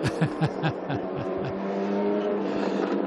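The red number 5 race car pulls away at the Paul Ricard circuit in a loud, close engine roar, its revs climbing through rapid gear-change pulses before settling into a sustained high-pitched drone.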